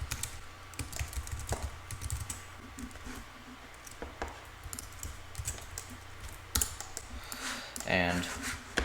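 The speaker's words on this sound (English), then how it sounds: "I am just going to type" Someone types a name on a computer keyboard, a run of light, irregular key clicks close by with short pauses between bursts and a slightly louder flurry near the end.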